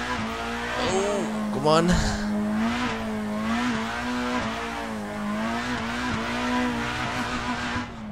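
A race car in the Assetto Corsa sim drones with a steady, loud engine note that rises and falls through revs. A sharp burst of tyre squeal and skidding comes early on, and a voice exclaims briefly over it.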